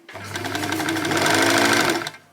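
A small home sewing machine stitching fabric, running in one close, steady burst of about two seconds with a fast whirring hum that starts and stops abruptly.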